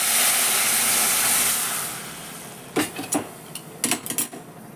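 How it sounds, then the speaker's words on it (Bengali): Hot tempering spices hit a pot of dal with a loud, bright sizzle that fades over two seconds, followed by several sharp clinks of a utensil against the pot. "এইবার আমি কিন্তু ডালটা ফোড়ন দিয়ে দিচ্ছি"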